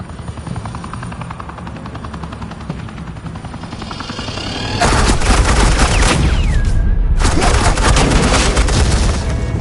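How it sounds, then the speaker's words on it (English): Heavy automatic gunfire laying down suppressing fire in the video game Batman: The Enemy Within, a loud dense barrage that erupts halfway through over a steady rotor-like drone and rattles on continuously to the end. "Suppressing fire."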